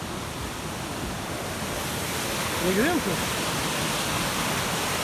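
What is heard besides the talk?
waterfall and rushing river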